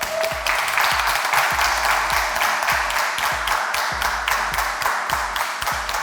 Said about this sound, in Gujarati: ભાઈબંધો માટે એકવાર જોરદાર તાળીઓ થઈ જાય.